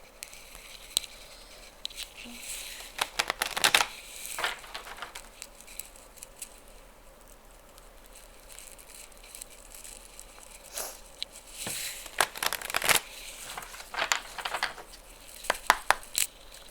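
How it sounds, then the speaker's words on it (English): Soft papery riffling and slaps come in short bursts, tarot cards being shuffled close by, separated by quiet pauses. "Shuffle these cards here real quick"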